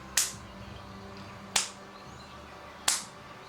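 Three sharp hand claps land about every second and a half during a Qi Gong exercise, each one crisp and close, with a short decay and quiet room tone between them.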